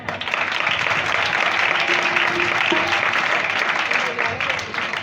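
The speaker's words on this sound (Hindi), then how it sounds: "आप अपनी तालियों में बताएं।" Audience applause fills a church Christmas program, a steady, dense wash of many hands clapping close by, with faint voices murmuring underneath throughout.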